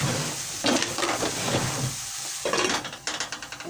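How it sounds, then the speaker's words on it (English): Tomatoes cooking in a pot for egg stew give a steady bubbling sizzle with a few soft stirring and scraping sounds, close by and alone. "leave our tomatoes to cook for a few minutes"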